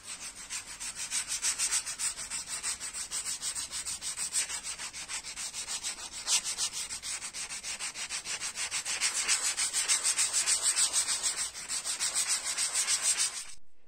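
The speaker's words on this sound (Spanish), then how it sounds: "lo primero que vamos a hacer va a ser lijar con una lija toda la madera" Sandpaper rubs back and forth over wooden flooring for a camper van, a fast, steady rhythmic scratching that runs continuously and close, with no voices.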